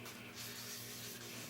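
Wet sanding of a lacquer finish with 800 grit sandpaper, a soft continuous close rubbing hiss with slight swells, no talking.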